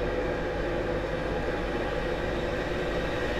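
A Class 91 electric locomotive leading a VTEC service from York to King's Cross in Train Simulator 2018, a steady droning rumble and rail roar running continuously without change.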